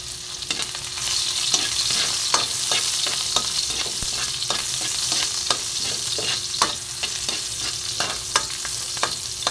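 Chopped onion sizzles in a hot pan for patola (sponge gourd) soup while a utensil scrapes and stirs it in repeated clicks over the continuous frying hiss, with no talking.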